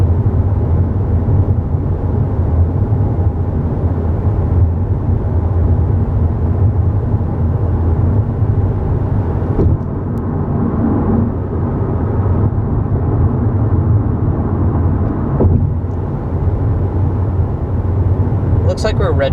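Inside a 2021 Honda Civic Hatchback cruising at about 60 mph, a steady wind and road rush fills the cabin, and a person talks over it.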